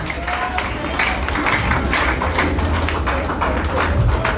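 A church congregation clapping for Jesus, a dense steady patter of many hands that stays loud and continuous, mixed with voices and crowd noise throughout.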